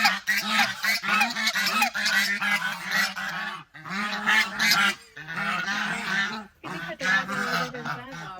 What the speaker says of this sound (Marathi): कोंबडी बाजार ऐकलं होतं, बदक बाजार ऐका